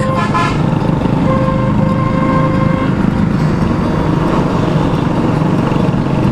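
Busy, jammed road traffic of trucks, motorcycles, vans and auto-rickshaws rumbles close by, with engines droning continuously and a horn tooting near the start.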